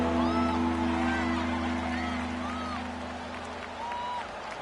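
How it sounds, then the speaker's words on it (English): Stadium crowd at an NFL game roars and cheers in a steady, dense wash, loud at first and easing slightly, with a sustained low drone beneath and occasional whistles cutting through. "the crowd getting into it as we come up on a big 3rd down"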